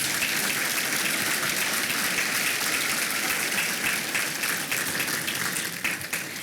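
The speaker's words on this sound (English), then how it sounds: "Can we please give a round of applause to our final group of nominees?" Steady, dense applause from an audience at the 2022 ATHENA Award ceremony of the Youngstown-Warren Regional Chamber, greeting the final group of nominees; continuous clapping fills the hall and thins slightly toward the end.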